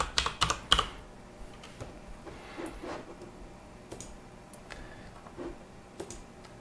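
Quick bursts of typing on a computer keyboard, a dense cluster of clicking keystrokes at first, then scattered, softer taps spaced out over a faint background hiss.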